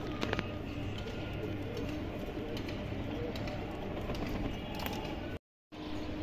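Silver jabra pigeons coo steadily amid a constant noisy background, with a brief dropout near the end.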